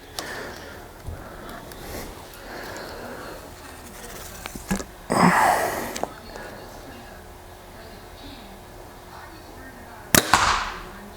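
A compound bow fires twice, each release a sharp snap followed by brief rattling, against quiet outdoor ambience with some talk in the background.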